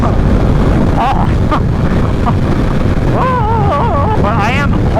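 Strong, gusty wind buffets the microphone outdoors on a windy day, producing a loud, continuous low rumble, while a person talks over it with rising and falling tones in the second half.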